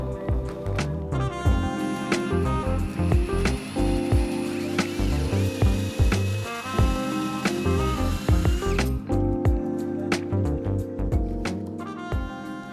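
A power drill bores a hole through clamped wood, its motor whirring in several close, loud bursts with pauses and knocking handling sounds between them.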